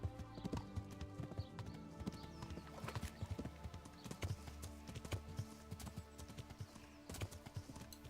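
A horse gallops across terrain in the video game Kingdom Come: Deliverance, with rapid, irregular hoofbeat thumps throughout and a brief whinny, fairly close and alone without talk.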